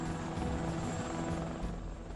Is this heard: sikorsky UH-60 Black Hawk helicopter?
yes